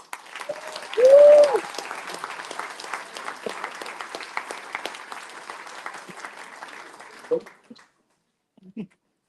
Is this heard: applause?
yes